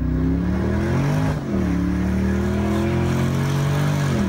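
A Mustang race car engine accelerates with a steady, loud roar, its pitch climbing over several seconds, briefly easing around the middle of the run before pulling hard again.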